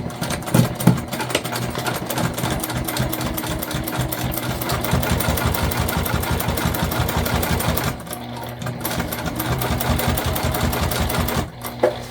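A sewing machine stitches fabric pouch panels and linings in a steady, loud, continuous rapid run, with brief pauses near eight and eleven seconds for backstitching.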